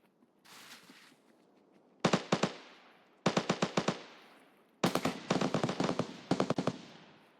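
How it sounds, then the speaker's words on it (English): Gunfire in Escape from Tarkov, a faint distant shot followed by several loud bursts of rapid automatic fire, each volley a sharp cluster of cracks separated by short pauses, with no talking. "The troublesome thing is they were shooting at somebody."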